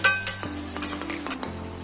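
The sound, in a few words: chicken being sautéed with spices in a pan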